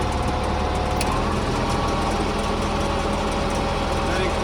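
A 3,000-gallon jet fuel truck's engine runs at raised throttle while pumping fuel, a loud, steady, continuous drone with no break.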